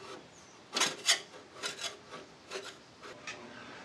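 Body filler and laminate being scraped off the front grille of a Series 1 Land Rover during restoration: a run of short, dry rasping strokes, a couple of louder ones early followed by lighter, irregular scrapes close to the microphone with no talking.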